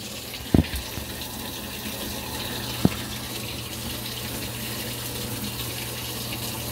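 Water rushing steadily into a washing machine drum as a wash cycle fills, a constant close hiss with a low hum beneath, broken by two sharp knocks.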